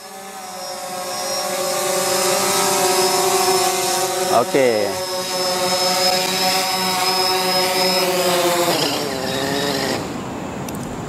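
A small survey drone flying a planned mission returns toward its home point, its steady multi-rotor whine holding loud and close with shifting pitch, while a person talks briefly over it.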